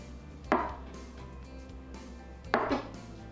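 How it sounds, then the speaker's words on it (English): A knife cuts through a block of tofu with two distinct, fairly quiet chops onto a board, spaced about two seconds apart, with faint room noise in between. "So I just take this block and I cut it down the middle here."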